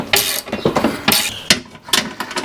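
Ratchet cranking a bolt on a Suzuki Boulevard 800cc motorcycle during a rebuild, a few bursts of quick metallic clicking separated by short pauses, close and fairly loud.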